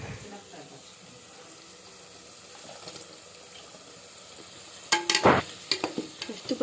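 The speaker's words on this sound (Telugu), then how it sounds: "ఎర్రగడ్డలు, పచ్చిమిరపకాయలు వేసుకుందాం" Sliced onions and green chillies hit hot oil in a pot while mutton biryani is cooked, a loud sizzle burst followed by stirring clatter, after a low, steady background.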